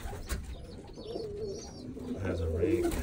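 Young Birmingham Roller pigeon squeakers on the floor coo softly and continuously, a low murmuring close by, with someone talking quietly over them.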